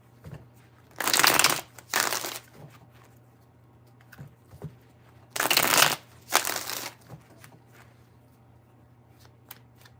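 Tarot cards are shuffled in two distinct sets of riffling bursts, each a pair of crisp, close flutters separated by several seconds of quiet and low hum, with no speech.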